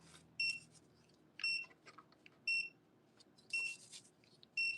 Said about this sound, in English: It's going to beep at me because this side has a lot of dust